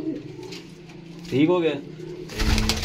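Pigeons coo in a loft kept by a pigeon breeder in Faisalabad, a soft rising-and-falling call near the middle of the clip amid low background noise, with someone speaking briefly.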